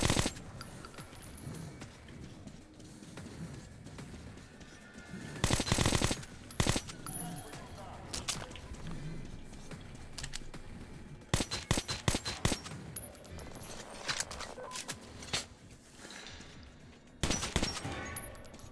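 Gunfire from the Metro: Last Light video game, with bursts of automatic fire and scattered single shots spread across the stretch over a steady background, several loud volleys standing out.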